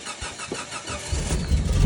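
A 1991 Jeep Wrangler YJ Renegade with its 4.0 engine starting up, a close cranking rumble that builds into a steady, growing engine roar, no talk.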